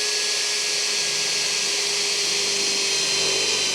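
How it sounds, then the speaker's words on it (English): An electric drill bores a small hole in the steel body of a 1958 MGA under repair, a steady high whine held at one pitch, close and alone. "So I'm going to drill, first of all, a little hole and see where we end up."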